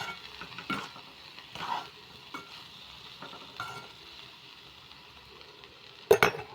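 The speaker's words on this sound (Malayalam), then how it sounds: "വഴുതനങ്ങ ഇട്ട് കൊടുത്തിട്ട് നല്ലപോലെ എല്ലാം അവിടേക്കും എത്തുന്ന രീതിയിൽ നല്ലപോലെ ഇളക്കി കൊടുത്ത ശേഷം" Sliced brinjal frying in a pan for a Kerala upperi as it is stirred, with a soft, quiet sizzle, scattered scraping strokes and a sharp clink of the utensil near the end.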